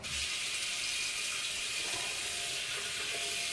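Running water from a tap rinses a clogged razor after shaving, a steady close hiss of flowing water throughout with no voices.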